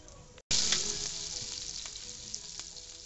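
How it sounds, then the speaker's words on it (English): Oil and butter sizzle steadily in a hot frying pan, a sudden loud burst of frying hiss that stays dense and continuous, with faint crackles on top. "So now you got 2 tablespoons of oil, 1 tablespoon of butter. Let that get heated up"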